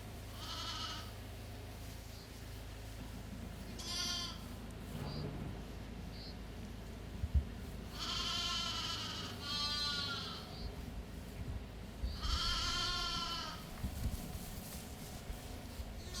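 Young lambs bleat while playing, several separate high, wavering bleats a few seconds apart, some close and some a bit farther off, over faint outdoor background with no speech.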